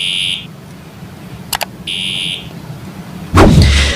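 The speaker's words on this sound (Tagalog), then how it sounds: "If the buzzer sound stops," Fire detector alarm system buzzer sounding loud and close in two steady electronic bursts, with a short double click between them as a button is pressed, then a heavy thump near the end.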